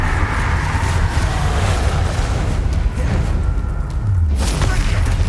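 A heavy Bombarda explosion spell booms in Hogwarts Legacy during a troll fight, a loud deep blast with rumbling low end amid other spell effects, joined by a brief voice.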